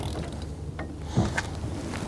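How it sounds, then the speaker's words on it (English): A torque wrench tightens a weight-distributing trailer hitch, giving one brief mechanical click and ratchet near the middle over a low background hum. "We got a torque wrench here"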